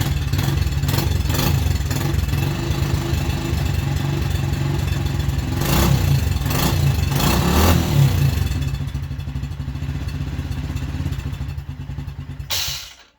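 A Yamaha TTR 90 dirt bike engine with a worn kickstarter one-way bearing runs close by, a steady clattery idle with a few short revs in the middle, then it fades and cuts off at the end.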